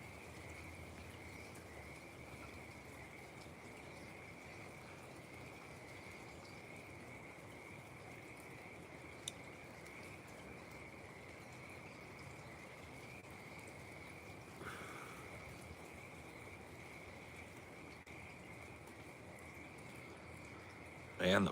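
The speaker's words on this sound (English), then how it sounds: "Man, the frogs are going crazy today." Frogs croak through a steady rain, a dense continuous chorus with a persistent high trill band holding evenly throughout, soft pattering underneath and a brief louder knock near the end.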